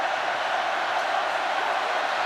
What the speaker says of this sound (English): the crowd lift their voice, trying to urge the men in red on